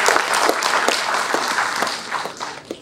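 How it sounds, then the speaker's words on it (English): An audience at a speech applauds for a group, with scattered individual claps standing out sharply over a steady round of clapping that gradually thins toward the end. "Let's also give them applause."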